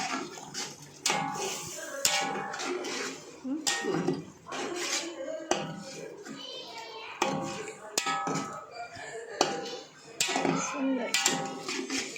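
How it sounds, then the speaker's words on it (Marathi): A spoon clinks and scrapes gently against a pot of cooked chicken biryani in a series of soft, irregular strokes, heard under someone talking. "एकदम अलगद हलवायचं."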